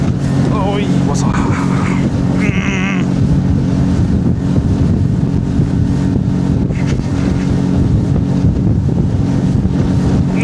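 A boat speeds over open water, its loud engine roar and hull slapping on waves mixed with heavy wind buffeting the microphone throughout; people shout and talk over the noise early on.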